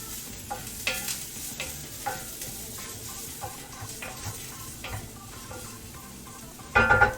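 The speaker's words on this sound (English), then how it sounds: "Keep it moving because I don't want that garlic to stick underneath." Garlic sizzles steadily in a frying pan as a utensil stirs it with repeated scraping strokes, close and continuous, ending in a louder burst of clatter.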